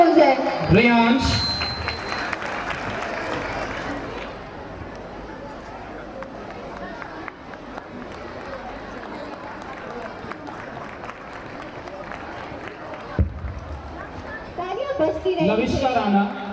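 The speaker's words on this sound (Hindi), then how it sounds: "एक बार जोरदार तालियां हो जाए." Audience at a school annual day breaks into loud applause and crowd noise that swells at the start, settles into steady clapping and chatter, then rises again near the end, with a voice speaking over it.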